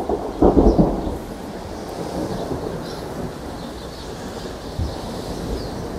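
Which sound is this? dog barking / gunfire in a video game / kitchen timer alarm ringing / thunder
thunder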